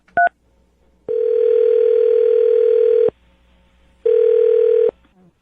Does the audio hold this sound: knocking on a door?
no